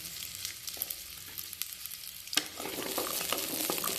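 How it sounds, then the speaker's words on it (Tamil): Small shallots and garlic fry in hot oil for a kuzhambu, giving a close, steady sizzle with crackling that swells as food hits the pan and continues alone. "எண்ணெய் சூடாயிடுச்சுங்க. இப்போ நம்ம சின்ன வெங்காயம் சேர்த்துக்கலாம்."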